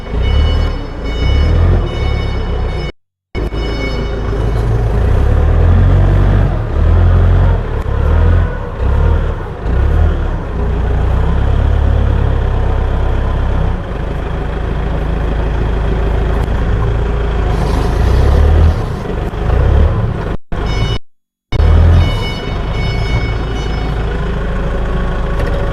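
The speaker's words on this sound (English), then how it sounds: "So this time, Jane will to show us our XF series 3 ton with Kubota engines." Diesel engine of an XF series 3-ton forklift with a Kubota engine running loud and close, revving and working steadily throughout, with a few brief cutouts in the sound.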